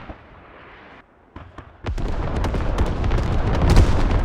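Artillery barrage in the military shooter Squad, a quiet stretch giving way to dense, continuous booming and rumbling impacts that build louder toward the end, with sharp cracks scattered throughout.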